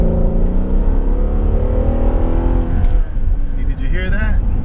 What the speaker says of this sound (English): you'll see a slight change in the sound of the engine and the exhaust.